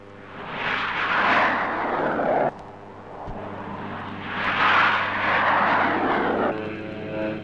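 A Blackburn Buccaneer jet aircraft roars past twice at a 1964 Royal Navy Fleet Air Arm parade, each pass swelling loudly and then fading, with a low engine drone underneath.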